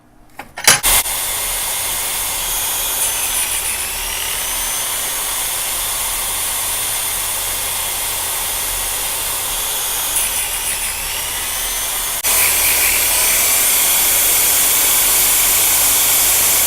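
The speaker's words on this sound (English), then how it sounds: "So I'm going to put my electric chain sharpener in the vise." An electric chain sharpener held in a vise grinds chainsaw teeth with a loud, steady motor whine and grinding hiss that jumps slightly louder near the end.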